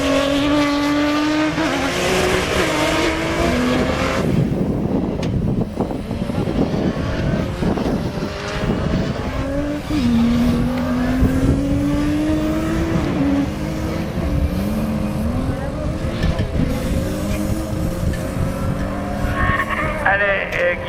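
Turbocharged rallycross cars race at Lessay, engines roaring and revving through gear changes as cars pass and accelerate, loud and continuous, with a commentator talking over the noise.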